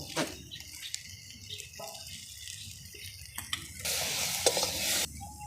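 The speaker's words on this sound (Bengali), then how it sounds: "এবার নাড়াচাড়া করে দেব।" Egg curry with potatoes is stirred in a frying pan, with a spoon scraping and tapping against the pan over a soft sizzle and one louder burst of frying near the end.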